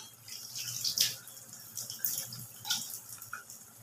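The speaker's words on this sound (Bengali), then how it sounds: "মিক্সির বাটি ধোয়া জলটাও আমি এখানে দিয়ে দিলাম।" Rinse water from a mixer jar poured into a cooking pan, a soft close splashing and trickling with a few brighter spills, fairly quiet with a low kitchen hum beneath.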